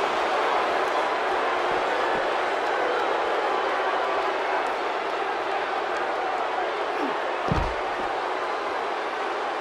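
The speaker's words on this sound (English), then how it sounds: "The crowd here in Austin, Texas, really into this one" A wrestling crowd in Austin, Texas cheers in a steady, loud roar that fills the arena throughout, with a brief thump near the end.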